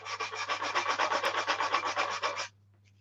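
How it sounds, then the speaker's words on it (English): Rhythmic sanding of a wooden model by hand, about twenty quick even back-and-forth strokes over two and a half seconds, close and steady, then stopping abruptly, with a low hum in the background. "The only problem with sanding in a room that you store models in, as Chris will find out"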